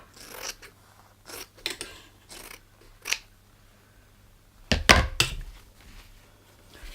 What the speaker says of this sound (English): we're going to cut 1 inch off the top